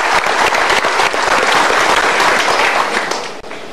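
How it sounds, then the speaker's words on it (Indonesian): Studio audience applause on an Indonesian motivational talk show, dense and loud clapping sustained for several seconds before tapering off at the end. "Kita berikan tepuk tangan."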